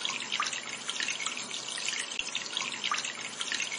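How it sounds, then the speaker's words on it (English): Steady hiss of running shower water in a doll makeover mobile game, an even, moderately quiet splashing stream with no voices. "Wash it with the shower."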